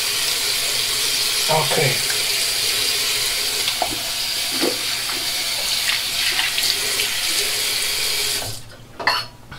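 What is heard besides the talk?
rinsing razor under running tap water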